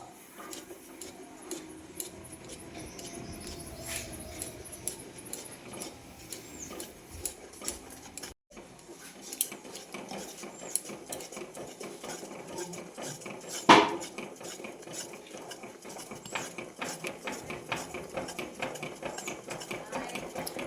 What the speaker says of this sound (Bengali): এইভাবে আস্তে আস্তে নাড়িয়ে নাড়িয়ে একটি সফট ডো বানিয়ে নিতে হবে